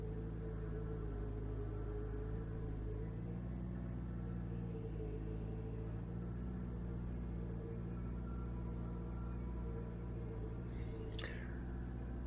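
Racing video game car engine on a cool-down lap, a faint, distant, steady rumbling drone that hums along continuously, with one brief sharp blip near the end.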